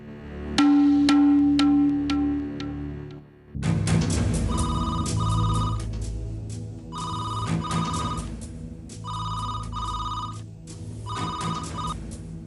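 A telephone rings repeatedly in a household, unanswered: clear periodic electronic ring bursts recur at steady intervals over a bed of background music and room tone, with no one picking up.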